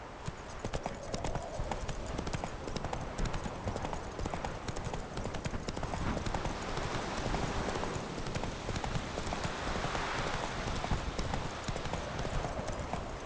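Rapid clip-clop of a horse galloping in The Witcher 3 video game, with hoofbeats close, loud and steady throughout.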